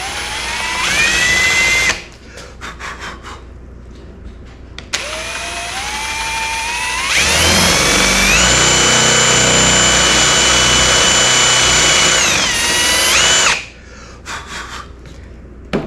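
A power drill bores through wood in several bursts, a high whine that rises as the motor spins up, with one long loud pass in the middle and short gaps of quiet between.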